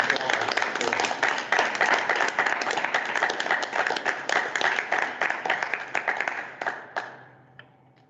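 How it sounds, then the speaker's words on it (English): A crowd at a board meeting applauding, dense steady clapping that swells and then tapers off into a few scattered claps before fading out. "I think that deserves an applause."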